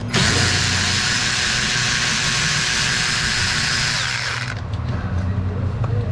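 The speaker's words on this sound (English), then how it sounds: "Pull this bracket bolt back out again." A power tool drives out a bracket bolt during repair work on a 4.3 L engine, a loud, close, continuous whine that cuts off after about four and a half seconds, leaving faint workshop clatter.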